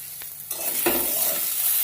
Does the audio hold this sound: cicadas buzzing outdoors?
no